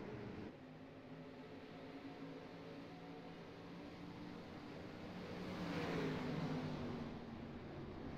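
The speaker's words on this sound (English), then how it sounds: "Now watch Tim Smith go around this Phoenix International Raceway here in the Rallycross Dirt Street Stock Styles." A rallycross dirt street stock car, Tim Smith's number 097, laps Phoenix International Raceway with a steady, distant engine drone that swells and fades slightly as it passes, with no talk.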